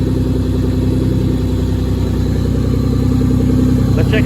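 A 2JZ-GE engine swapped into a Nissan 240SX drift car idles steadily and loudly up close, its even, low rumble holding a constant rhythm throughout.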